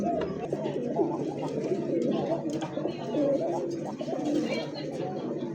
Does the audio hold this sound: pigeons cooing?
yes